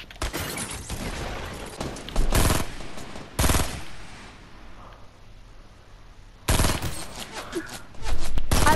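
Gunfire in the Fortnite Battle Royale video game arrives in loud, sharp bursts of rapid shots separated by short quieter gaps, with a long final volley at the end.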